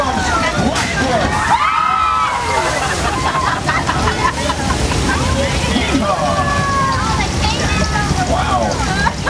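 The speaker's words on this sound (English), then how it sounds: "It's a flash flood, guys." Churning, sloshing rush of flood water at a Universal Studios ride effect, loud and sustained, mixed with crowd babble and some excited voices throughout.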